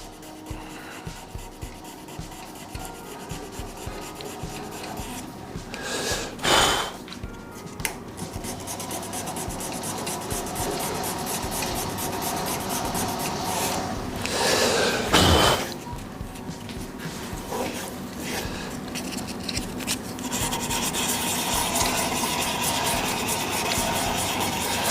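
Dry-grit hand sanding of a wooden shaving brush handle, a steady close rasping rub that runs continuously, with two brief louder bursts partway through.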